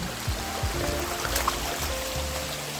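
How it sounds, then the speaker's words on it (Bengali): A hillside waterfall in the Chandranath hills runs with a modest flow, producing a continuous soft rushing wash with a few low thuds, heard from a moderate distance and without talk. "আমরা দেখা পেলাম সুবিশাল পাহাড়ের বুকে ঝর্ণাধারা"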